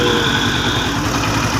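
A rebuilt Chinese motorcycle engine, freshly honed with new rings, piston, timing chain and clutch plates, idling with a steady loud mechanical chatter close up.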